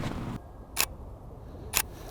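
Pentax K-3 Mark III DSLR shutter set to high-speed burst mode, two short sharp mechanical bursts about a second apart, close and crisp against a quiet room.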